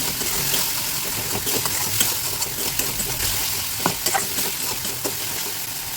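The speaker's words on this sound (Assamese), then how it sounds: "আৰু এয়া মছলা ভাজি হৈ গৈছে আৰু কেৰাহীত লাগি গৈছে অলপ অলপ" Masala spice paste fries loudly in a wok for an Assamese fish curry with kohlrabi, a dense close sizzle broken by scattered stirring scrapes and clinks, no voices present.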